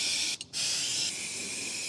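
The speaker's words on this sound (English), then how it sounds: "I am going to just start spraying with carburetor cleaner and try and soak them a little" Carburetor cleaner sprays from an aerosol can onto carbon-fouled intake valves of an Audi TT MK2 with the EA113 TFSI engine, a close, steady hiss broken by one brief pause before the spray resumes.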